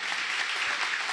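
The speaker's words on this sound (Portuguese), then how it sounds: "Aplauda bem forte ao Senhor." A church congregation claps in a dense, continuous burst of applause, close and fairly loud, with no speech over it.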